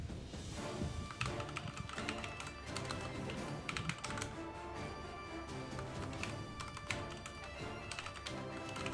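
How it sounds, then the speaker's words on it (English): Steady typing on a computer keyboard, rapid irregular clicks and taps of keys running continuously at close range and low level, with no voices over it. "You still typing?"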